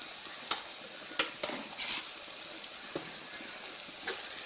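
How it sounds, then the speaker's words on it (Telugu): Small prawns and sorrel curry being stirred in a pan, with a steady sizzle and hiss throughout and several sharp spoon scrapes against the pan at irregular intervals, no talking. "వేసి బాగా కలుపుకుందాం."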